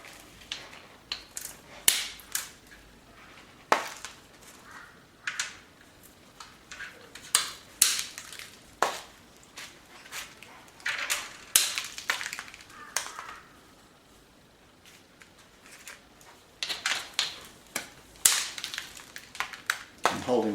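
Sharp, percussive knapping strikes flake a small Levallois stone core held in the air, sounding as irregular clusters of close, crisp clicks and cracks separated by brief pauses.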